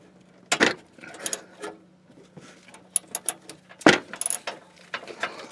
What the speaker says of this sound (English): I've got a handy ratchet.